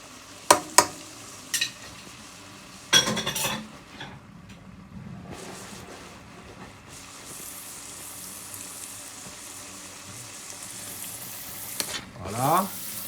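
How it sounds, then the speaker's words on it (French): A pan of cream sauce reducing on the stove, with a quiet steady sizzle beneath several sharp utensil clinks and scrapes early on, then a clatter near the end. "Et je vais mélanger le tout, laisser un tout petit peu réduire avant d'ajouter la crème fermière."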